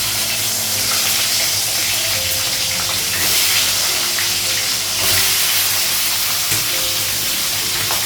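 Potol and potato frying with panch phoron and green chilli in hot oil, a steady loud hiss and sizzle running throughout with no talking.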